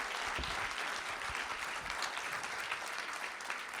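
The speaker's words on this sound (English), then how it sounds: "Let's give Isaac a big round of applause" Applause from the audience at a Bernie ISD school board of trustees meeting honoring a fleet technician, a steady, fairly faint wash of many hands clapping for about four seconds.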